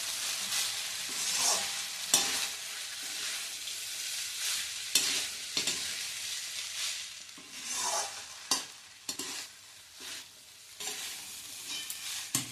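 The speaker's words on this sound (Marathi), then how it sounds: "छान असं परतून घ्यायचंय।" Wheat dalia is stirred and sautéed in a pan for pulao, scraping spoon strokes and soft sizzling arriving in irregular bursts, close and fairly quiet, with no voices.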